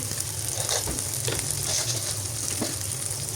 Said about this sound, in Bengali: এগুলো একটু ভালো করে ভেজে নিচ্ছি